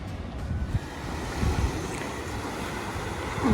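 Sea waves wash onto a crowded tourist beach in a steady, rushing roar with gentle surges, mixed with gusty wind buffeting the microphone and no talk.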